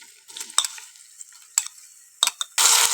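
Ginger-garlic paste sizzles and crackles steadily in oil with sharp bursts of spattering and stirring, ending in a loud, continuous hiss of frying.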